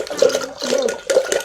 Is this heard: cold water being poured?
yes